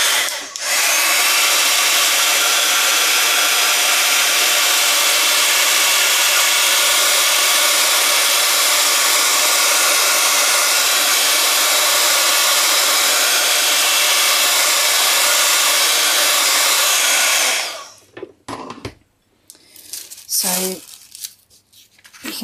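A hair dryer blows steadily and loudly for about seventeen seconds to dry wet tissue tape in a craft project, then cuts off, leaving brief rustling and handling noises.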